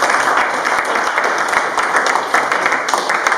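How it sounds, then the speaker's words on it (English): An audience at a Popular Action Party installation event in Yaoundé claps loudly and close by, a dense, continuous burst of applause that runs evenly through the whole moment. "Please clap for him."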